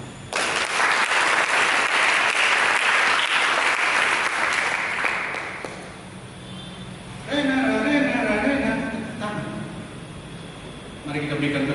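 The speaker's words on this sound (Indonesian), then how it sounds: "sambut dengan tepuk tangan" Loud, dense applause from a church congregation during a sermon fills the first half, then fades as someone speaks over a quieter room, with brief bursts of clapping returning near the end.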